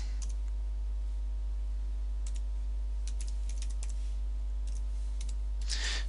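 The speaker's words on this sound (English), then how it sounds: "You'll hear me typing, so I'm just going to put that link in now." Quick, irregular clicks of fingers typing on a computer keyboard, close and crisp over a constant low electrical hum, with a denser burst of keystrokes at the end and no speech.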